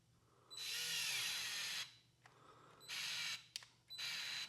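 A DeWalt 66719 screwdriver drives a screw into a pilot hole with three close whirring bursts of motor noise, each stopping abruptly, separated by short pauses with faint clicks.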